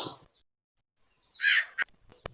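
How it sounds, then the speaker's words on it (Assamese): A crow caws several times in an animated cartoon. The calls are loud and harsh and come as a bright burst followed by a few short sharp caws, after brief quiet. "কাউৰীটোৱে লৈ উৰি যায়"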